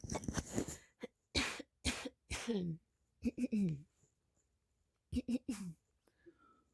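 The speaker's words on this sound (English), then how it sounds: "sorry, I have to clear my throat" A person coughs and clears their throat in a series of short, harsh bursts, pausing between them, close to the microphone.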